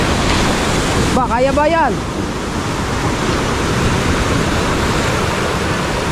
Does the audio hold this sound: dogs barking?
no